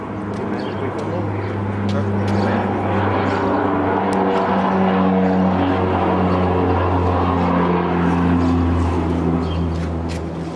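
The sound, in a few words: military plane flying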